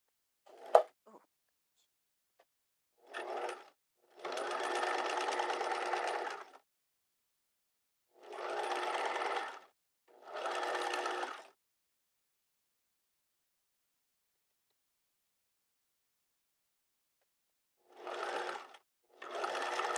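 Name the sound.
sewing machine stitching a seam on a square neck top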